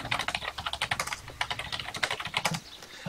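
Rapid, uneven clatter of fingers typing on a computer keyboard during a TERA online game session, steady bursts of keystrokes close to the mic with no talking.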